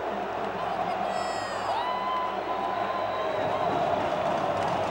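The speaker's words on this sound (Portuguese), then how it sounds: "A imensa torcida vascaína canta na Arena da Amazônia." Vasco fans sing in the Arena da Amazônia stadium as a steady distant crowd roar, with a whistle-like tone sliding through and a commentator talking over it.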